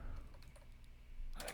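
A computer keyboard is typed on for a short command, giving a handful of quick light key clicks close by, ending in a slightly louder tap.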